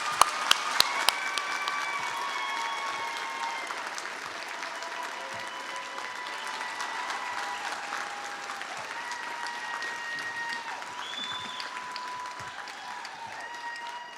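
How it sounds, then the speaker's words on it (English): High school graduation audience applauding, opening with a few sharp individual claps that swell into sustained, steady crowd applause with faint cheering voices mixed in. "Wyborny a round of applause."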